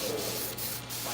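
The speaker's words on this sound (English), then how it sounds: "Take a little bit of aftershave, and we're going to spray it on a couple Q-tips." Short continuous spray of aftershave onto cotton swabs, a broad close hiss lasting about a second with slight dips, alone without speech.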